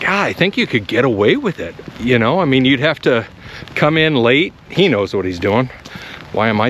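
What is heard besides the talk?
None of the usual background noises is heard.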